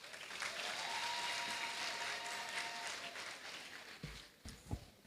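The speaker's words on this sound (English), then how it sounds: "Let's welcome him with an applause." An audience at a university congregation ceremony applauds to welcome the Pro Vice Chancellor, a soft, distant wash of clapping that holds steady then thins out, ending with a few scattered thumps.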